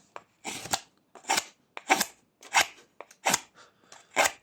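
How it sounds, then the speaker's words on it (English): A knife whittles a small wooden cat figure, making sweeping carving cuts: about six distinct scraping strokes in a steady rhythm, each a short rasping swipe, close and clear with no talking. "Just a few sweeping cuts like that, and then slice off the edge like that"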